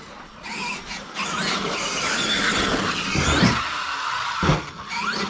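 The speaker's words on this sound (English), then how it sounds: "So I'll just kind of rip up the yard and show you how good it jumps" An ARRMA Kraton 8S RC truck tears around a yard, its electric motor whining and tyres squealing in a continuous high-pitched rush with a couple of louder surges, close and fairly steady.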